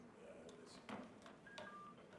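Faint telephone dialing tones sound as a phone line is reconnected, a few short, quiet beeps over low background noise.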